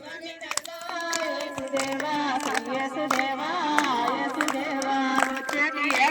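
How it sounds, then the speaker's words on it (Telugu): A church congregation at an Easter morning service claps along in rhythm while voices sing, the sharp repeated hand claps standing out over the melody. "మీరు చప్పట్లు కొట్టాలి"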